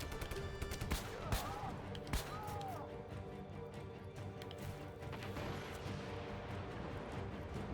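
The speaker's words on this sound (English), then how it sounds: "Keep firing." Shotgun fire in Just Cause 3, a run of sharp close blasts in quick succession early on, then a dense, rumbling din of continued shooting and chaos, fairly faint overall with a voice speaking at times.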